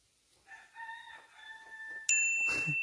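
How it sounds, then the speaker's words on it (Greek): A rooster crows once in a long, wavering call close by, followed at the end by a sudden sharp bright ringing tone. "Κόκορας"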